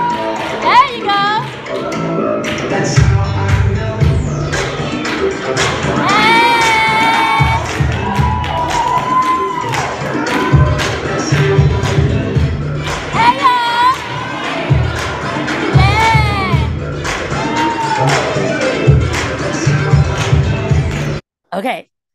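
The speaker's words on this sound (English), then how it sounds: "They started cheering. They started clapping. They were waving and calling out." A large crowd cheers, claps and shouts out continuously, with excited children's voices and whoops rising and falling across a long, loud stretch that cuts off abruptly near the end.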